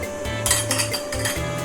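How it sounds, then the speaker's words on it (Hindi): A pressure cooker lid is closed and its weight set in place during beef and cauliflower gosht cooking, with a run of clattering metal knocks and scrapes over a steady kitchen hum. "अब हम इस कुकर का ढक्कन बंद करके वेट लगा रहे हैं"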